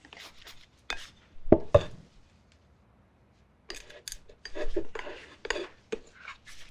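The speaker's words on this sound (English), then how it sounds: "So I'm going to divide the dough in about 180, 200 gram pieces" Bread dough for festive flatbread being divided on a floured table into 180 to 200 gram pieces, heard as a few sharp knocks and scraping taps spread across quiet gaps, close and fairly faint.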